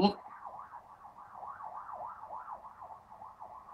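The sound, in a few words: police car siren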